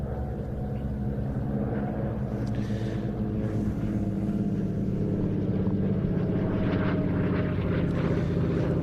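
A de Havilland Canada Beaver propeller plane flies back in over a motorway at an airfield display, its rough radial drone steady and fairly close, growing slightly fuller as it passes.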